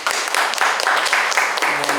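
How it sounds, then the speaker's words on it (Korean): An audience at a Korean community talk on Incheon labor history applauds a speaker, a brief burst of brisk, fairly loud clapping from a small close group. "다시 한번 박수 부탁드릴게요."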